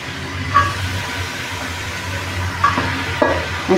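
Grated bottle gourd frying in ghee, a close, steady sizzle with a few louder stirring scrapes and bursts.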